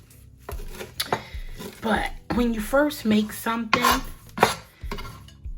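A knife chops chimichurri ingredients on a small cutting board, giving sharp, irregular knocks and clatter that mix with a person talking throughout.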